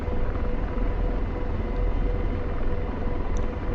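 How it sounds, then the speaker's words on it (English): AH-64 Apache helicopter landing in the DCS combat flight simulator, a dense, loud, continuous rotor and engine roar that stays steady and close throughout, no voices. "Yeah, helicopter landing is not my forte."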